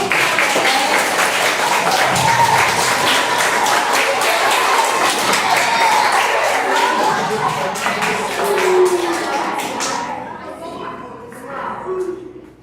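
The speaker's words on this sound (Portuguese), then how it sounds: "Eu queria palmas para vocês." An audience at a school talk on bullying bursts into sustained, dense applause with some cheering voices, loud and continuous for about ten seconds before thinning out into scattered claps.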